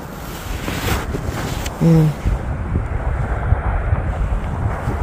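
Strong wind buffets the microphone in a loud, steady roar outdoors in a snow-covered place, with a brief tonal hum partway through and no voices.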